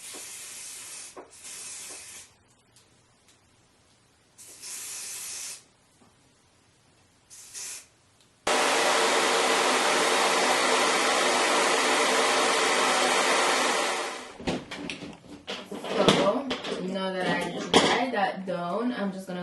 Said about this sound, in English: So I got my blow dryer, and let's just go ahead and spray away